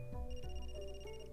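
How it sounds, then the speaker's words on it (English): An electronic phone ringtone in the video game Another Code: Recollection plays a short, bright pattern of repeating tones, clear and alone. "That's my phone."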